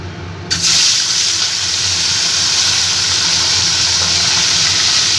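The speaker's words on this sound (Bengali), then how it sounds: "এবার মাছগুলোকে আস্তে আস্তে আমি ভেজে নেব" Bele fish drop into hot mustard oil in a kadai and set off a sudden loud hiss. The hiss holds as a strong, steady sizzle right up close, with no voices.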